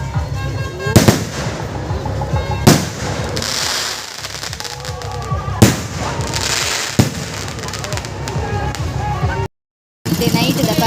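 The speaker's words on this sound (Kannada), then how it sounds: "ಪಟಾಕಿ ಇಟ್ಟು ಕಲ್ತು ನಾವು" Firecrackers go off at a crowded midnight village fair: several sharp, loud bangs at irregular intervals over a steady din of crowd noise and voices.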